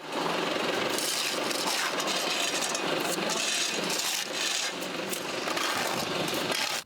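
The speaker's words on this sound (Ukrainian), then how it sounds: "Звідусіль чути, як працює комунальна техніка." Municipal utility machinery working through a city in Zaporizhzhia during the cleanup after shelling: a loud, steady, broadband engine and mechanical roar that continues without a break.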